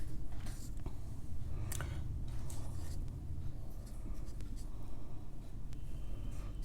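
Marker or chalk scratches across a board during a physics lesson on alternating current circuits, with quiet, irregular strokes and taps over a low background hum.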